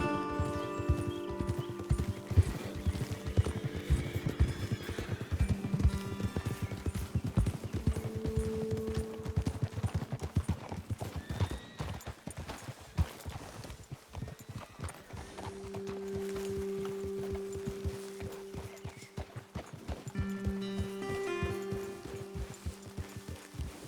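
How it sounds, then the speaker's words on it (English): Horses walk in a PlayStation video game, with steady close clip-clop hoofbeats running throughout and an occasional neigh, backed by a faint musical score and no talking. "Okay, let's dismount here. Best leave the horses back a bit."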